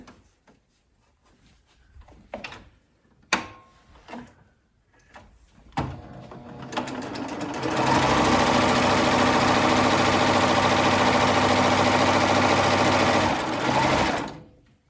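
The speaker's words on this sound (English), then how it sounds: "I have a serger, so I'm going to do my bit here with it. So I'm going to do the shoulder edges." Soft clicks and handling noises give way to a serger running steadily and loudly at close range for about six seconds, rapidly whirring as it finishes the shoulder edges of a knit t-shirt.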